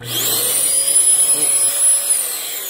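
A Eureka ReadyForce Total vacuum cleaner runs loudly and steadily with a high motor whine throughout, close by, with no one talking over it.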